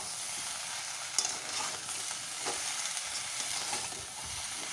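Mixed vegetables sautéing with a little ginger in hot oil for shukto, a dense continuous sizzle and hiss with occasional stirring scrapes and clicks, close and even throughout.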